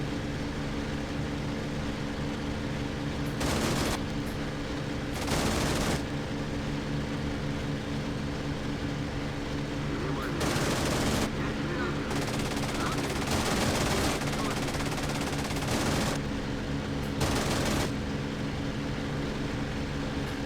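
Rear gunner machine gun fire in the IL-2 Sturmovik 1946 flight game, coming in several short bursts of rapid shots over a steady drone of aircraft engine noise.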